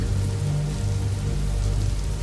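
Steady rain falls on a soft, mossy woodland surface, an even, continuous patter of close drops with a low rumbling undertone and no voices.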